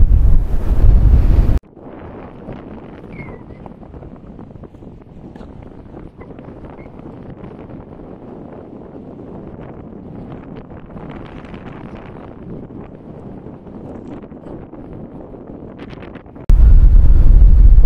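Strong wind buffets a microphone on a motorcycle ride at Dingalan, a loud, close roar that softens into a steadier rushing blow before surging back hard at the end.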